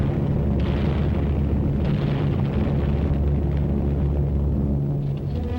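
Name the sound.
explosions from wartime aerial bombing in archival film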